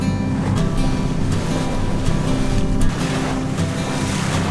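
A boat cruises through ocean waves on a sunny day off Queensland's Whitsunday Islands, giving a loud, steady rumble of engine and hull with water rushing and splashing close by, and no talk.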